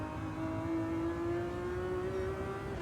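A Ferrari in a racing video game at the Tsukuba circuit holds a high, steady engine drone that slowly climbs in pitch as it revs, loud and close with no talk.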